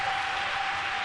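Applause from a church congregation, a dense steady patter of many clapping hands throughout, fairly loud and close, with a faint sustained tone running underneath.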